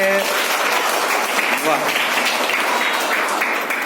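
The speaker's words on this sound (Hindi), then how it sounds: "एक जोरदार ताली लगा दो बच्चे" Children clapping in a classroom, a burst of scattered applause filling the room, with a voice calling out briefly at the start.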